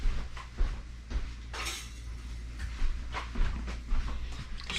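Metal spoon stirring albondigas soup with meatballs and vegetables in a pot, giving a series of irregular clinks and scrapes against the pot, fairly close and moderately loud, with no talking.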